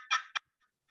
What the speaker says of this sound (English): If you take a turkey call and